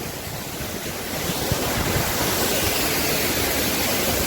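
Donawade waterfall roaring as a steady, dense rush of falling water, loud and close with no break, buffeted by some wind noise on the microphone.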